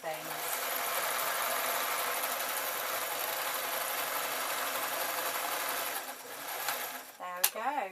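A sewing machine runs in a long steady whirring burst, close and even, while stitching a scarf from fabric leftovers; it stops near the end and a person starts talking.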